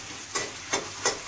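Tadka spices sizzle in hot oil for a biryani, three short crackling bursts of frying spaced evenly over a soft background hiss.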